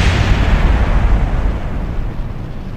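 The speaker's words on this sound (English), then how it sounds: "See, my fireworks are louder." Fireworks-style explosions in the video game Kerbal Space Program, a loud sustained rumbling boom that starts strong and slowly fades, heavy low-end roar with no voices over it.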